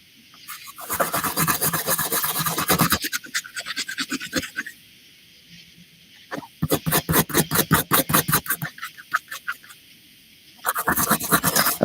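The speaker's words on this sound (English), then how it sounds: "Using a steel brush just on the blade handle, not just to remove a lot of this rust here" A steel brush scrubs rust off the blade of an old Case knife in close, loud rasping bursts of rapid back-and-forth strokes, separated by short quiet pauses.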